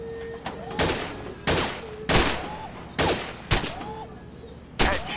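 World War II guns fired at a virtual shooting range in Gun Club VR, about seven sharp, loud shots at irregular intervals, each with a short echoing tail, close and dominant.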